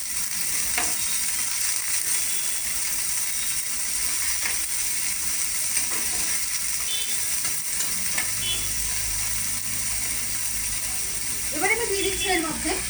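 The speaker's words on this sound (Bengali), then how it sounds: "একটা মিডিয়ামে রেখে একটু হালকা সতে করে নেব" Overnight-soaked green moong and chickpeas sautéed on medium heat in a pan, giving a steady soft sizzle with scattered stirring scrapes and clicks throughout, with no one talking.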